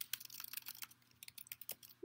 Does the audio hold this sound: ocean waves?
no